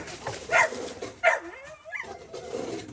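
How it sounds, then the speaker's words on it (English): An excited dog gives two sharp barks, then whines and whimpers in rising, wavering cries, close by, with no voices over it. "He's excited. Watch out, Red Dog"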